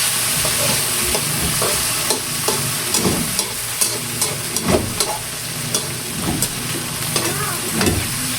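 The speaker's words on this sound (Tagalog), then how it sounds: "Binigisa ko na po yung hipon." Shrimp for a butter shrimp dish sautéing in a pan give a steady loud sizzle and hiss, with a spatula scraping and clacking at irregular intervals throughout.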